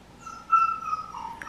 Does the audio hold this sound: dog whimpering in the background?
yes